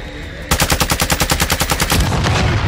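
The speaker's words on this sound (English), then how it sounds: "Get ready to shoot it." Automatic gunfire in a first-person shooter video game: one rapid burst of about sixteen evenly spaced loud, close shots lasting roughly a second and a half, then a noisy tail.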